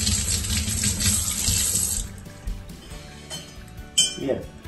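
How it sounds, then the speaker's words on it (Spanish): Prawns rinsed under a running kitchen tap, water splashing steadily into the sink for about two seconds, then stopping, followed by a few faint clinks and handling noises. "Y lo que vamos a hacer ahora es pasarlas un poco por agua."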